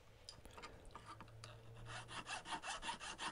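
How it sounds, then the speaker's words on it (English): A hand file rasps protruding material off a homemade alignment tool. Scattered scrapes come first, then a run of about eight even back-and-forth strokes, close and clear. "after cleaning up the protruding material with the file, it's roughly taking the form that I need it to."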